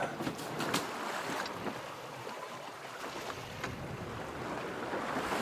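Steady wind rushes over a sailboat at sea in moderate breeze, buffeting the microphone with a constant broadband roar and faint splashing of water along the hull, with no voices.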